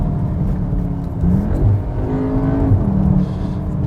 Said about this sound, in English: the fake noise you get in this, it's definitely a 5-cylinder noise